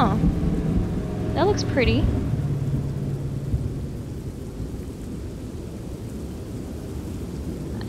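Rain and rolling thunder in the horror video game The Train, a steady storm wash throughout with a brief voice speaking early on.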